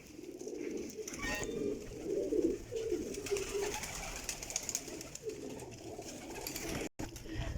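Rampuri breed pigeons coo in soft, repeated throaty bursts close by, the calls overlapping against a steady background hum, with a faint voice barely present.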